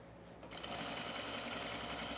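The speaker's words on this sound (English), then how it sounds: "now I'm gonna switch to my regular length, and I'm gonna backstitch. And we're just gonna finish out the rise." Sewing machine stitching steadily at regular stitch length while backstitching along the rise seam of men's cargo shorts, a continuous close mechanical whir that starts up after a brief quiet moment.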